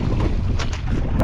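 Strong wind on a fishing boat out at sea, heard as loud, steady buffeting gusts hitting the microphone for just over a second, with no voices.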